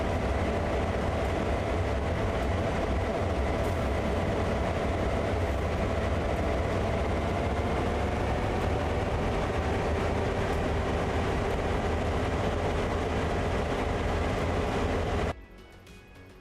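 Locomotive-hauled train in Train Sim World 3 rumbling steadily as it moves, a dense continuous low engine drone with wheel and rail noise, loud and constant before cutting off abruptly near the end.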